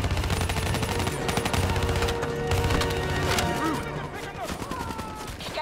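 Rapid overlapping gunfire in Call of Duty Black Ops III laying down cover fire, dense loud bursts with sharp impacts and splintering that thin out near the end, with voices talking in the mix.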